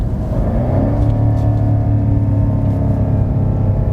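A BMW M5 F90 exhaust in exhaust mode drones loud and steady from inside the car during shifting, a deep continuous engine rumble with shifting tonal layers and no talking.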